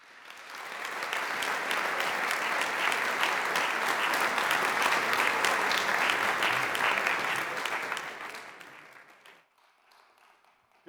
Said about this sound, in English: Let's give a round of applause for our MC,